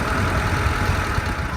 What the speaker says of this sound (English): at the moment the car's just idling